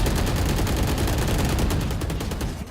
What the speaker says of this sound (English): absolute roar of gunfire there